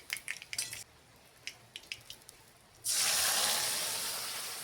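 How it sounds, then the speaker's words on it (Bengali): Mung dal poured into hot tempering of asafoetida, black mustard seeds and two dried chillies: first light clinks of utensils against the pan, then a sudden loud, sustained sizzling hiss that slowly eases off, close up. "এবার আমি ওই ফোড়নে আমি ডাল ঢেলে দেবো।"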